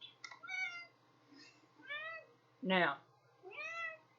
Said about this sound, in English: And my cat is circling back around.